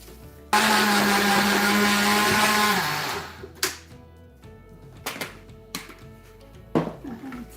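A blender whirs loudly and steadily for about two and a half seconds as it blends oats, natural yogurt and brown sugar, then stops, followed by several sharp knocks and clatters of kitchenware.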